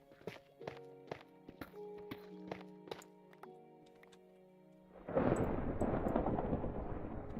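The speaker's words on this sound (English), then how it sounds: "Aren't I a bit low to be hearing that thunder?" Thunder in a crafting video game, a sudden deep rumbling roll that swells and lingers after several soft footstep-like thuds and faint tones.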